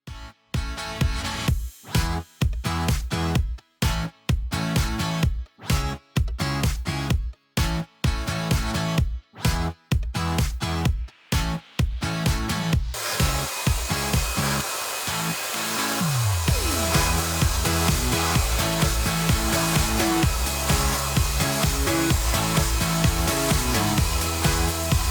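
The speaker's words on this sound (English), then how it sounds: "I want to vacuum this rug." A vacuum cleaner running over a rug in a home office: loud, continuous broadband whooshing with choppy bursts and brief dropouts for the first half, then a steady, unbroken roar.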